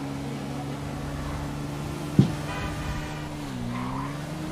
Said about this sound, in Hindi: मैं अपनी गाड़ी भगाते भगाते बस पहुंचने वाला हूँ एयरपोर्ट पे